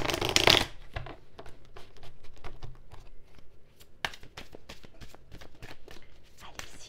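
Tarot cards are shuffled up close, with a sharp riffle burst at the start followed by soft, irregular flicks and taps of cards.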